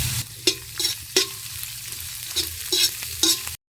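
Cabbage and carrot stir-fry in a pan for restaurant-style egg veg chowmein, a steady close sizzle broken by several sharp scraping stirs of a spatula against the metal, ending abruptly.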